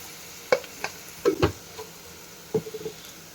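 Chicken frying with ginger paste in a pan, heard as quiet, scattered spatters and soft scraping ticks in irregular bursts, close by with no talk.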